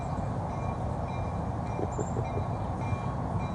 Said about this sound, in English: it looks like a little passenger train for tourists or something